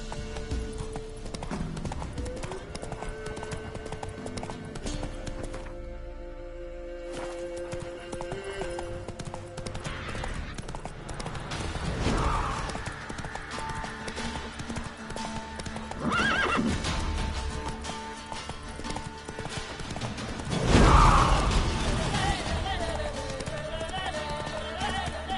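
Hooves of the horse Roach galloping in The Witcher video game, a rapid continuous clip-clop with occasional whinnies over game music, with a voice speaking briefly.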